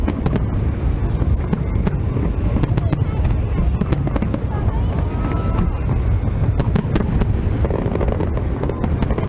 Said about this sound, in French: Voici quelques images du feu d'artifice prise du fleuve Tionga en ville.